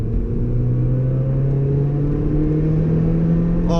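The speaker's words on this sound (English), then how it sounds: "the induction sound. You also have induction sound." Supercharged Toyota Yaris GRMN hot hatch under way, a steady engine drone with a rising whine that climbs gradually, heard from inside the cabin, even and continuous with no voices.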